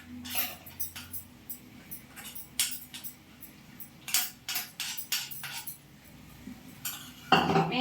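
Fried coconut being stirred into chicken curry in a pan, with repeated scraping and clinking of a metal spoon against the pan, irregular and close, with a louder clatter near the end.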